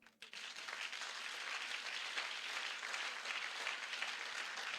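Church congregation applauding and cheering for God during a Sunday service, dense sustained clapping that starts abruptly and holds steady and fairly close for several seconds.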